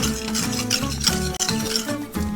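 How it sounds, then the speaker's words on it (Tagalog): Eggplant salad stirred in a bowl with a utensil, repeated scraping and clinking strokes in a steady rhythm, close and fairly loud, with no voices. "Tapos, haluin lang po natin para pantay po ang alat niya."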